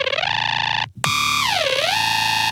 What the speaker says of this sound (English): This is just kind of low passed, I guess, because it's being distorted with yet another sine wave.